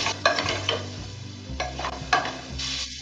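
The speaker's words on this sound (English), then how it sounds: "Give it a good mix." Potatoes and pumpkin with coriander powder, turmeric and red chili are stirred in a frying pan, giving scraping spoon strokes and light clinks over a soft sizzle, close with no voices.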